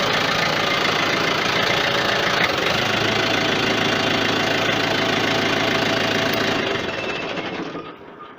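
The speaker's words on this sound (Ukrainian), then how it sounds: "Так працює. Мотор просто холодний" A Yanmar FX 305 mini tractor engine, not fully warmed up, idles with a steady, rough knocking chug, close and loud, before tapering off near the end.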